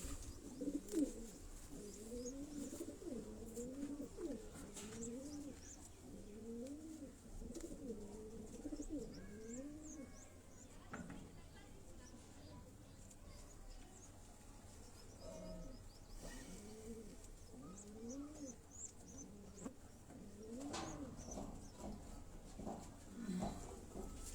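Imamdeen-breed pigeons coo in steady repeated rolling phrases close to the recorder, with faint background noise and no talking.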